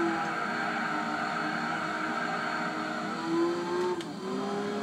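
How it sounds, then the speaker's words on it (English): Race car engine from Gran Turismo 4 on the PlayStation 2, a steady loud drone with shifting pitch, then a brief tire squeal and a slight dip in tone as the car brakes near the end. "the brakes on this car are especially impressive."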